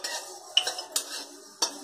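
Spoon clinking and scraping in a kadai while fenugreek and fennel seeds roast, a few sharp metallic taps over a soft dry rustle, close and brief.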